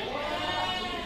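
A goat bleats at the crowded Deonar goat market in Mumbai, a long wavering cry heard close and loud over dense market background noise.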